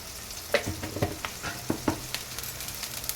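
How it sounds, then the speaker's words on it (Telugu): Ginger garlic paste fries in a pan with a loud, close sizzle and crackle, while a spoon stirs through it in a few sharp scrapes and taps. "కలిపి ఒక 2 మినిట్స్ అల్లం వెల్లుల్లి పేస్ట్ పచ్చి వాసన పోయేదాకా వేగనివ్వాలి"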